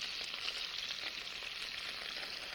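Chicken sizzles and browns in a sauté pan over high heat, a steady bright crackle of frying fat with small spatters, close and continuous.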